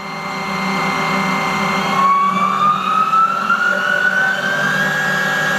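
Live tool on a 2018 Haas ST10Y CNC lathe spinning at 2,000 RPM, a loud steady whine that rises in pitch as it spins up, over a constant machine hum.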